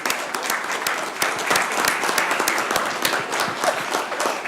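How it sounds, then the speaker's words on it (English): Steady applause from a room full of people at a city council meeting in Columbus, Georgia, dense and continuous clapping heard close and filling the whole space. "I'm clapping for myself."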